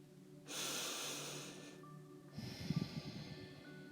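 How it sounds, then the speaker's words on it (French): One slow, deep breath drawn in through the nose and let out, heard as a faint sustained airy inhale followed by a softer exhale with slight rasp, close and quiet with no talk. "prends une bonne inspiration profonde par ton nez et expire"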